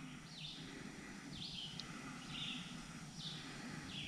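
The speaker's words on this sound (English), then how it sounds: "You'll be able to hear some birds from time to time." Small birds chirp intermittently by the water in open countryside, brief high calls recurring every second or so over a steady low outdoor rumble, fairly faint and distant.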